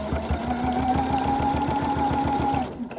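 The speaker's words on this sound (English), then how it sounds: "now I'm just going to continue stitching just as if I had the bias binder on" A home sewing machine stitches steadily to close the join of a bias binding, a continuous mechanical whir with rapid even needle pulses, close and loud, stopping near the end.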